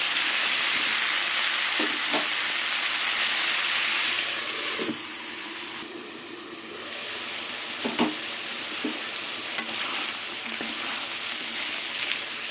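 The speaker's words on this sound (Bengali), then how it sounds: "এবার ঢেকে ঢেকে সবজিগুলো ভেজে নেব" Ridge gourd and potato pieces fry in a pan with salt, a loud steady sizzle that turns muffled and quieter once the pan is covered, with a few light knocks of the utensil.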